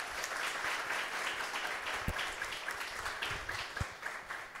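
Applause from a church congregation at a sermon, a steady close wash of many hands clapping throughout, with a few sharper individual claps standing out.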